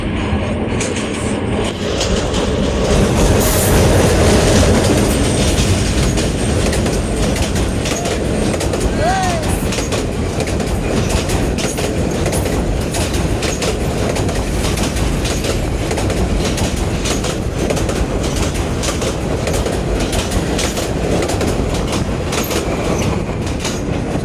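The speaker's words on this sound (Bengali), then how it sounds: "2600 সিরিজের লোকোমোটিভ নিয়ে ব্যাকওয়াম কোচ নিয়ে চলে যাচ্ছে পঞ্চগড়ের উদ্দেশ্যে।" A passenger train hauled by a 2600 series locomotive with coaches rumbles past loudly toward Panchagarh, with rhythmic clickety-clack of wheels over rail joints, a brief wheel squeal partway through, and constant close-up rolling noise throughout.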